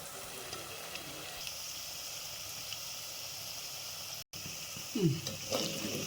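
A tempering fries in a pan with a constant hissing sizzle, steady and close, broken only by a momentary cut before a few stirring clinks near the end. No one speaks.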